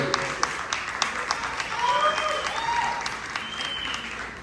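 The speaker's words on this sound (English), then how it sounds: "Can we give Zach a bigger round of applause?" Room of listeners at a blues festival business presentation claps steadily, a fairly loud crowd patter with scattered sharp individual claps and a few cheers riding on top throughout.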